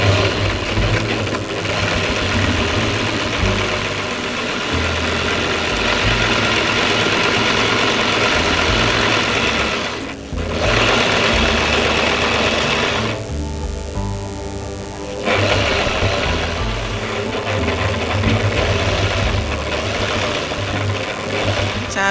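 Sewing machine stitching a straight seam on a blouse, a loud continuous mechanical whirring with short pauses, no talking.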